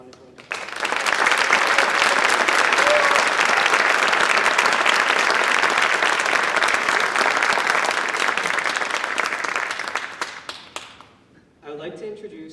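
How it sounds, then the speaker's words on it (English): Audience applause at an honor society induction ceremony swells into sustained, loud clapping from a large crowd, holding steady for about ten seconds before fading out, with a few voices briefly audible at the end. "May we please have another round of applause for these wonderful individuals."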